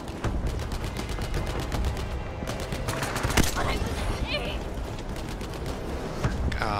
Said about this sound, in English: it's taking way too many shots to take him out